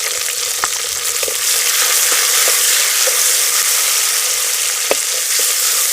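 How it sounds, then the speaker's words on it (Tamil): Onion and finely chopped tomato fry loudly in hot oil for a vegetable kulambu, a dense unbroken sizzle close up with a few faint stirring taps. "வெங்காயம் தக்காளி நல்லா எண்ணெயிலே வதங்கிட்டுங்க"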